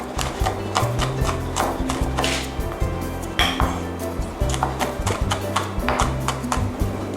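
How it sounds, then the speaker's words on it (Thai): Rapid, steady knife chopping of bird's eye chilies on a board, a dense run of sharp taps with a few clinks, close and fairly loud. "นี่ก็นำพริกขี้หนูค่ะมาสับละเอียด"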